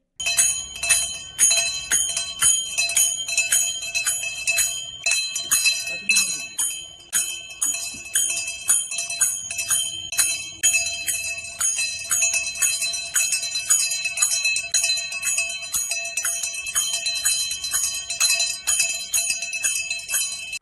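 A bell and cymbals ring steadily right beside a fish aquarium, bright metallic tones layered over a rapid, continuous jingling and clashing that never lets up, loud and close for the whole stretch with no talking.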